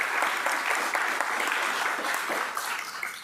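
Steady applause from a crowd at an outdoor dedication and ribbon-cutting ceremony, dense clapping filling the space at an even level throughout.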